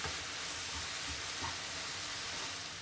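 Minced meat seasoned with four-spice mix is stirred in a hot pan, giving a steady, close sizzle with soft scraping and stirring sounds underneath throughout.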